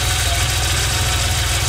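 A 1984 Porsche 911 with a 3.2-litre engine idles steadily and loudly with a deep low rumble and even, rapid pulsing, running continuously with no voices.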